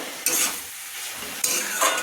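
Cabbage frying in a pan, the sizzle swelling in two bursts as it is stirred, close and fairly loud with no voices.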